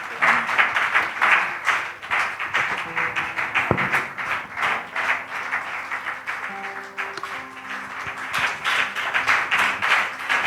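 A church congregation claps and cheers in warm welcome for Pastor Chidi during a celebration service. The applause is steady and fairly close, with scattered shouts throughout.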